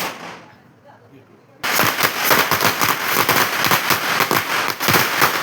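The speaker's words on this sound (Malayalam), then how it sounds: "പിന്നെ രാത്രി വീണ്ടും കുറച്ച് നേരം പടക്കമൊക്കെ പൊട്ടിച്ച് അങ്ങനെ എല്ലാ പടക്കവും പൊട്ടിച്ച് തീർത്തു." Firecrackers burst at night during the Vishu festival, a quiet moment giving way to a sudden rapid volley of sharp cracks that crackle continuously and loudly, like a long string of crackers going off nearby.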